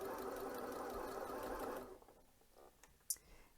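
A Janome C30 sewing machine stitches a regular straight seam with a close, steady motor whir for nearly two seconds, then stops, leaving quiet handling clicks.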